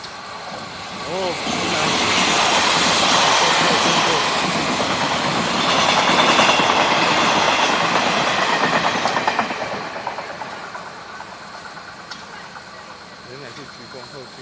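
Steam locomotive CT273 on the Hualien–Yuli line starting and running: a loud, continuous rumble with rhythmic clickety-clack that swells, holds, then gradually fades, with a brief spoken exclamation nearby.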